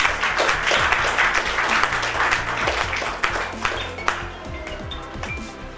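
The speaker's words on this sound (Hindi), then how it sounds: "एक बार बच्चे की जोरदार ताली हो" A live audience applauds for a young child during a motivational talk, with dense, steady clapping from many hands that fills the whole stretch and slowly thins toward the end.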